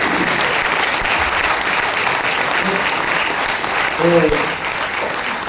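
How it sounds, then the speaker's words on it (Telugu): An audience at a women's day meeting claps in sustained applause throughout, with a voice briefly heard over the clapping near the end. "ఉమెన్స్ గురించి మీరు క్లాప్ కొడుతున్నారు, మంచిగా కొట్టండి ఒకసారి"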